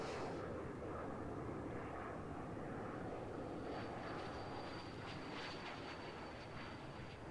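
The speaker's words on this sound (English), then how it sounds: "So this was the plane." Fixed-wing airplane passing overhead in the racing game Assetto Corsa Competizione, a broad steady engine roar filling the scene at constant loudness for several seconds without speech.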